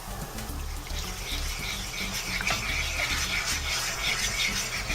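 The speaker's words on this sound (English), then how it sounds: "Now we're going to slowly add in some 3 cups of beef broth" Beef broth pours steadily into a pan as a continuous, fairly quiet liquid splash and trickle. The sound holds level for the whole stretch, with no voices over it.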